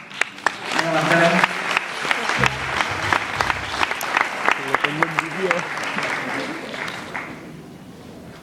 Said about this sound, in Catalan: un fort aplaudiment per a Josep i Pasqual ahir a la tele.